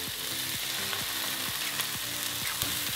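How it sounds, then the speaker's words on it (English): Eggs are cracked over vegetables frying in a pan and cook there unmixed, giving a steady, moderately faint sizzle with soft crackles and no talking. "I just crack them over top of the vegetables and let the whites cook first."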